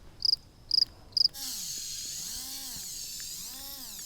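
An electric nail drill with a ceramic bit removing gel nails: three short high whirring bursts, then a steady loud whine that rises and falls in pitch as the bit presses and lifts, continuing to the end.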